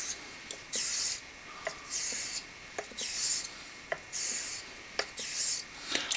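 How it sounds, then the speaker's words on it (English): A straight razor honed on Shapton whetstones: rhythmic, evenly spaced hissing strokes of steel sliding across the stone, about six passes with small clicks as the blade turns between them, close and clear with no talk. "all I'm doing is working this through on the Shaptons"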